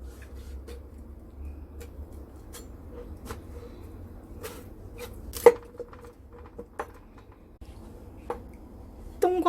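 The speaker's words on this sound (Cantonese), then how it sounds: "冬瓜洗乾淨之後呢，我哋切咗嗰啲皮佢" Knife slicing the skin off a washed winter melon on a board, a run of sharp, irregular cuts and taps sounding close over a low hum, with no talk.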